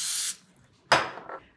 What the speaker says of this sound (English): And then spray the plastic wrap.